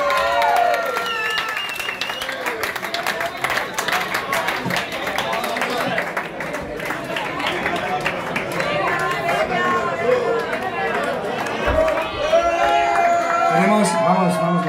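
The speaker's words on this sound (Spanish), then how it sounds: "Un aplauso para ellos, por favor." Crowd at a rock band show in a Barcelona venue claps and cheers loudly as people are called onto the stage, a steady wash of hands with voices and shouts over it throughout.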